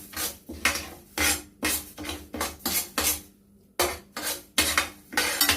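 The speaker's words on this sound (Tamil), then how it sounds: "இப்போ நம்ம இந்த அரிசியை போட்டு நல்லா ப்ரௌன் கலர்ல நம்ம கோல்டன் ப்ரௌன் கலர் நல்லா வறுபடணும்" Rice being dry-roasted to golden brown in a hot pan for sweet sathumavu, with a spatula scraping and rattling the grains in a brisk, rhythmic series of loud close strokes and no talking.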